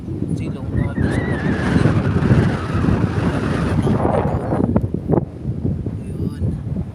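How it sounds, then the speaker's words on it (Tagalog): Strong wind buffets a microphone outdoors in a rural province, a steady loud roar and rumble throughout, with a person talking over it. "Kaya sobrang lakas ng hangin dito."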